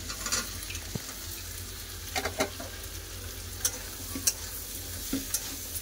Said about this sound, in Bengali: এগুলো একটু ভালো করে আগে ভেজে নেবো।